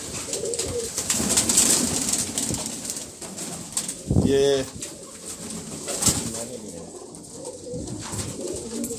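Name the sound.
Shajapuri pigeons cooing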